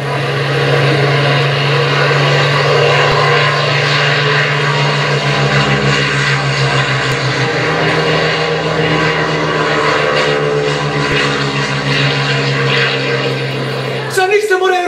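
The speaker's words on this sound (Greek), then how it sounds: "Ξανοίξτε, μωρέ, αεροπλάνα. Εγέμισε ο ουρανός!" Propeller aircraft drone steadily overhead as a sound effect in an outdoor theatre performance in Kandanos, a loud, unbroken engine rumble lasting the whole stretch before cutting off abruptly.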